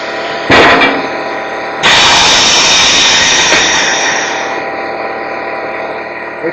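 An old Coats tire changer machine working on Budd wheels lets out a sharp burst, then a loud, steady pneumatic roar and hiss that slowly fades over several seconds.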